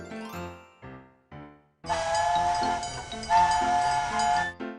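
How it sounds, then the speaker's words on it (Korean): A children's song sound effect of a train: short sung notes lead into a loud, sustained steam whistle over rhythmic chugging and hissing puffs. "짐을 가득 실은 기차가 달리고 있어요"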